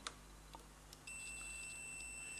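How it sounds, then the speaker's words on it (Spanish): A few faint clicks, then a multimeter's continuity test beep starts and holds continuously, steady, high, thin and quiet against a background hiss. "Ponemos la escala de pitido"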